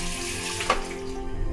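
Water runs steadily from a tap into a sink in an office at lunchtime, a continuous hissing splash with a brief splashy accent midway, close and moderately loud.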